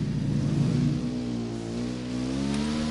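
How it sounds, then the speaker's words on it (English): Vehicle engine revving in the video game Ghost Recon Wildlands, a steady, loud mid-pitched roar that rises and holds with shifting harmonic tones throughout, no voices over it. "I'm hearing engine noise"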